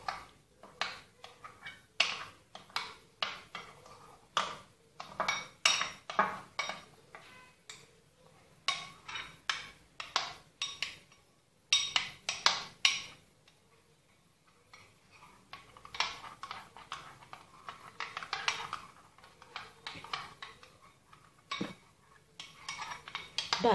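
A pomegranate peel mixture is stirred into yogurt in a bowl, with a rapid, uneven run of clinking spoon strokes against the bowl that pauses briefly midway and then resumes, close and clear.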